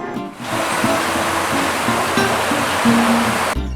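Water gushes from a broken fire hydrant on a Chicago street, a loud continuous hiss and roar close by, steady for the whole stretch before cutting off abruptly.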